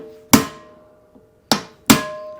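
Three sharp metallic hammer strikes on a Ford brake drum, each ringing briefly with a bright, sustained tone, separated by quiet gaps, close and loud with no talking.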